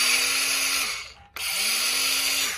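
A cordless battery-powered saw from a cheap used power-tool lot whirs at a steady high pitch, winds down, stops briefly, then spins up again and runs on, close and loud.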